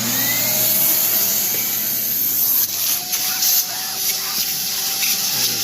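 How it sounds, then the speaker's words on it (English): A loud vacuum cleaner roars up close, its suction pitch shifting as the nozzle works over car seat fabric, with short bursts of rougher airflow. "And then you take your vacuum cleaner."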